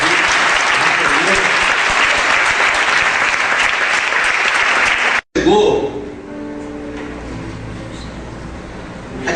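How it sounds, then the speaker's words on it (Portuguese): Loud church congregation applause for several seconds, cut off abruptly, then followed by quieter room sound with a voice speaking. "Você pode aplaudir o Senhor em nome de Jesus"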